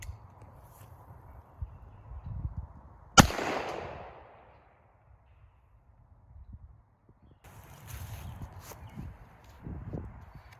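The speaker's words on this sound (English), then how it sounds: "Let's retry that 45 ACP." One sharp, loud crack from a .45 ACP pistol fired at surplus body armor outdoors, with a decaying tail, between stretches of faint rustling and shuffling.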